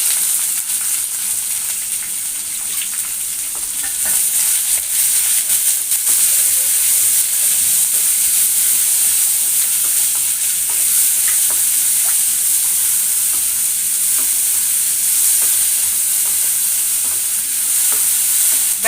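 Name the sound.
onions sautéing in a pan for adai dosa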